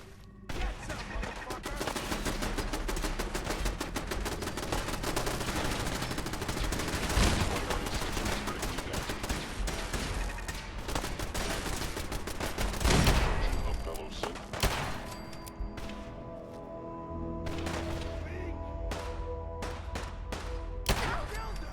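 Dense in-game gunfire in Fallout 4, a sustained fusillade of shots and thuds running throughout with brief louder bursts, including a long-range headshot, with talk mixed in over the shooting.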